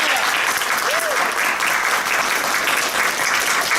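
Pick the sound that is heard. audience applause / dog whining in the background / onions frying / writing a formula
audience applause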